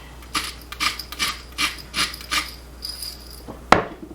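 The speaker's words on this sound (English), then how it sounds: "Now I'm mixing it into this little cup here" Tahini sauce with lemon juice, water, salt and pepper stirred in a small cup: a run of soft rhythmic scraping strokes, about eight in a row, close and quiet, ending with a sharp clink.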